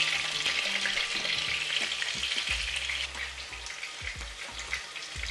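Chicken strips on skewers frying in a pan, a continuous close sizzle with occasional low thumps and crackles as pieces shift.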